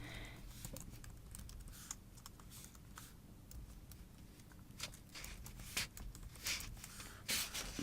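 Quiet typing on a computer keyboard while entering an email address at a login page, with irregular clusters of light key clicks and taps, heard close but faint over a low background hum.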